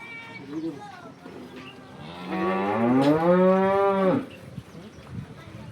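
A local Banaskantha cow gives a loud, drawn-out moo of about two seconds during milking, close by, with quieter farmyard sounds and faint murmurs before and after.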